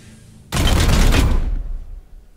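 Weapons fire in Warhammer 40k: Chaos Gate - Daemonhunters: one loud, dense blast of shots lasting about a second, which then fades into a short rumbling tail.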